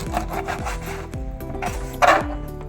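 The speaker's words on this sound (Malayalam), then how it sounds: "കുറച്ച് നമുക്ക് വീതി കൂട്ടിയിട്ട് കട്ട് ചെയ്തതിന് ശേഷം പിന്നെ അതിനെ ചെറിയ ചെറിയ പീസാക്കാം." A knife saws and scrapes through fish on a wooden board as it is cut into small pieces, with steady close rasping strokes and a firmer chop near the end.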